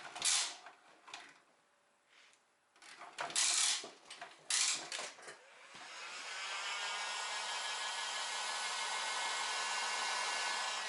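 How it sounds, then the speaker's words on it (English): A heat gun blows steadily while a universal front spoiler skid plate is installed on a Shelby GT350R, rising to a continuous loud whoosh after several short bursts and clicks. "Gotta get the heat gun."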